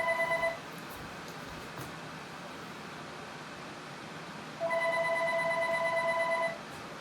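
A telephone rings twice in a pottery studio during tea bowl trimming, two long trilling electronic rings separated by a few seconds of quiet room hiss, moderately near and without talk.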